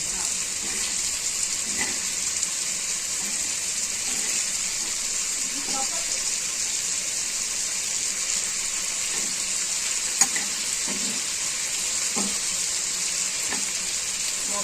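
Fish with tomato, chili and garlic fries on high gas in a pan, a steady hissing sizzle throughout with faint scraping stirs and small pops, fairly close and even.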